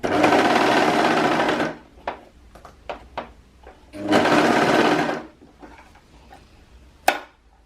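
Sewing machine stitching three layers of folded ribbing onto pants, two short loud bursts of rapid stitching separated by quiet handling clicks and fabric shuffles, with a sharp tap at the end.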